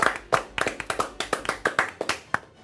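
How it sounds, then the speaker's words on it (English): Scattered hand claps from a small classroom group thanking the teachers, about a dozen distinct sharp claps in an uneven rhythm, close and moderately loud, with no talking. "make sure you are giving them a round of applause in your classroom"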